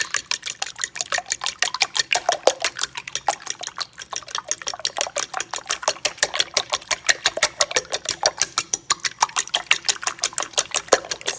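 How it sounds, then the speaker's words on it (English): Fork beating eggs in a bowl for lasagna filling, a fast, steady stream of rhythmic clicking taps against the bowl, close and continuous throughout with no talking. "Stir it up really good like that."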